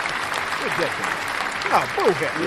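A small group applauds with a steady wash of clapping, while people talk and exclaim loudly over it.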